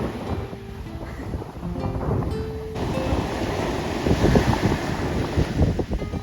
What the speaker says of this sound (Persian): اینجا متاسفانه خیلی زیاد باد می اومد